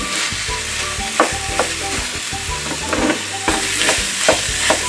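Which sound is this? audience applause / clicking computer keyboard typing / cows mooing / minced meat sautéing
minced meat sautéing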